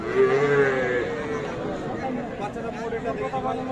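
A cow lets out a low moo at a busy rural cattle market selling cows with calves, heard close over a steady babble of crowd chatter and nearby voices.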